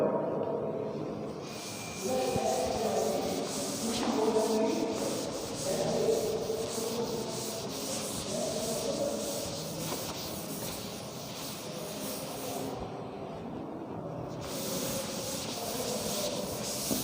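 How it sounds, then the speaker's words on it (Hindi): A board being wiped clean of writing, a soft continuous rubbing and scraping that runs steadily for several seconds, fairly quiet and close, with no talking. "अब इसको रब कर देते हैं।"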